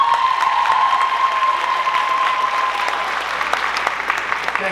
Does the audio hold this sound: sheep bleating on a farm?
no